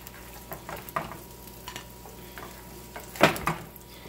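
Black bean jalapeno burgers frying in a pan, with a soft steady sizzle broken by a few faint scrapes and utensil clicks on the pan, one sharper clatter near the end.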